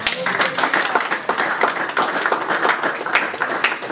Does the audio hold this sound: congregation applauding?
yes